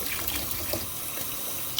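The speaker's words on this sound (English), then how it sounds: "Now take a little water and rinse it" Tap water running steadily from a faucet over a sink to rinse a trumpet valve slide, a continuous close hiss and splash with no talk.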